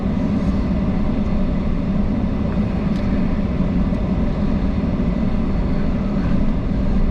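Truck pulling a trailer load of truck parts at an auction yard, giving a continuous, loud, even engine and road rumble heard from inside the cab with no breaks.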